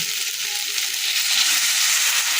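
Spices with a pinch of cumin powder fry in a pan as a little water goes in, giving a loud, continuous hissing sizzle that stays steady throughout, close and without speech.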